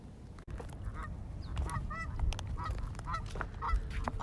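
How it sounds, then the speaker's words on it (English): A flock of geese honks repeatedly near water, scattered overlapping calls at a moderate distance over a soft outdoor background hiss, with no talking. "Oh, look, there's some geese right there."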